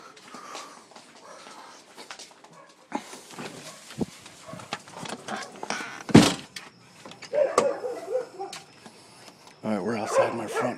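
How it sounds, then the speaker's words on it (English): Dogs barking in a neighborhood around 6:30 PM, scattered sharp barks and yips at varying distance, some loud and close, mixed with bursts of people talking. "assuming they don't bark at everything that comes by"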